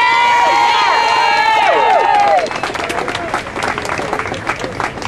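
A large outdoor crowd at a Tax Day Tea Party rally in Bowling Green cheers loudly and applauds, whistles and shouts rising together, then the cheering fades into scattered clapping and murmuring.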